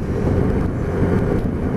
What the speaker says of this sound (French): là il y a du vent, je vous dis même pas